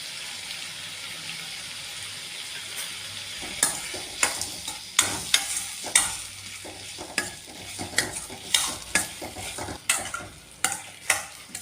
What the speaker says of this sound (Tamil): தக்காளி நல்லா கிரேவி பதம் வர வரைக்கும் கிளறி விடுங்க